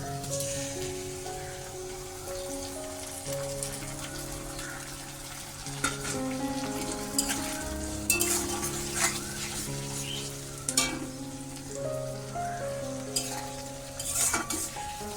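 Onions fried until reddish in oil in a pot for an egg, soybean and potato biryani give a continuous close sizzle, with scattered clinks and scrapes of a spoon stirring against the metal.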